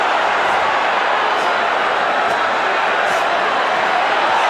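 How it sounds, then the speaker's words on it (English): A boxing crowd roars at a heavyweight bout as a fighter is pummelled with left hooks, a loud, dense, continuous wall of cheering and shouting that holds steady throughout. "crowd is roaring"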